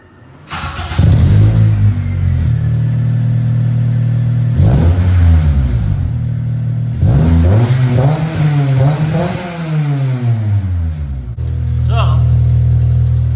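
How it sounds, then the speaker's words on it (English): An Acura RSX engine cranks and catches, then revs up in a couple of rising and falling bursts before settling back to a steady idle, loud and close throughout. "We're gonna start it up."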